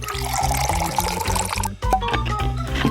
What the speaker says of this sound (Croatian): I tek sad ću dodati vrelu vodu.